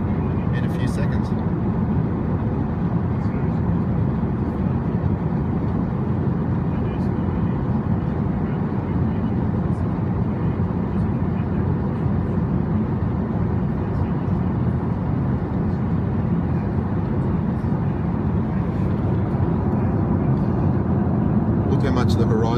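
An airliner cabin fills with a steady, loud, broadband engine and airflow roar as the plane climbs past 30,000 feet. The roar holds constant throughout.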